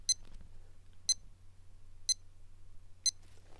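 Four sharp electronic alarm beeps from a Casio G-Shock GW-M5610U digital watch, spaced about a second apart, high-pitched and crisp against a quiet background hum.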